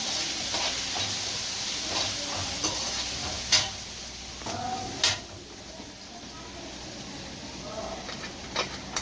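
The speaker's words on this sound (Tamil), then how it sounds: "மஞ்சத்தூள் போட்டுக்கிறேன். போட்டு நல்லா வதக்கணுங்க." Onions sautéing with rock salt and turmeric in a pan for a vanjaram (seer fish) curry, giving a steady broadband sizzle with a few sharp stirring clinks and scrapes, close and moderately loud.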